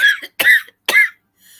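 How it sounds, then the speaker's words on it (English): Three harsh, close coughs in quick succession, each a sharp burst with short pauses between, followed by a faint breathy trailing sound. "That was a productive cough."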